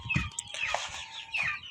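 Kuchinsky Jubilee hens in a coop, a few short clucks and squawky calls close by, brief and fairly quiet.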